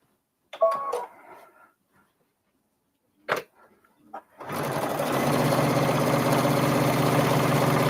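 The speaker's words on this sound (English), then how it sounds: "you're only going to sew just a little bit on each side" A sewing machine runs at a steady, continuous whir, close and loud, stitching a stuffed fabric button after a few soft handling clicks and rustles.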